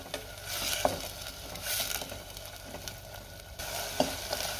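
Raw onion, tomato, ginger and garlic masala paste frying in oil in a pan for a pea and potato curry, a continuous close sizzle with occasional stirring scrapes and spoon knocks.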